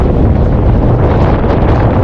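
Strong wind gusts loudly and steadily across the microphone at a river confluence on the Srinagar–Leh highway in Ladakh, a continuous close roar with no voices.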